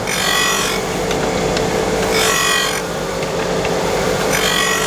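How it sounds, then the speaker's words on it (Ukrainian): Repeated strokes of abrasive rubbing against the front face of a wooden board for a homemade sine plate, a steady scraping rhythm with bursts of brighter hiss, close up and with no voices. "Продовжуємо шліфувати ліцеву сторону."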